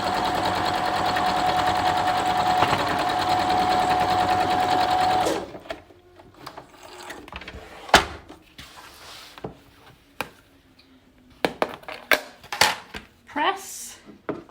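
A sewing machine stitches the seams of a log cabin quilt block with a steady, close whirring hum for about five seconds, then stops, followed by scattered clicks and handling knocks.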